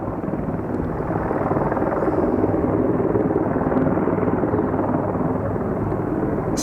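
A firefighting helicopter flies over a wildfire above North Bend, seen from Boston Bar, on a water-drop run. Its rotor and engine make a steady, loud, broadband roar throughout, with no talk.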